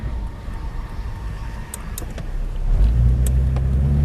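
A 1985 Chevrolet Opala Diplomata inline-six engine hums faintly at first, then swells into a louder, throaty steady drone partway through, heard up close with no talking.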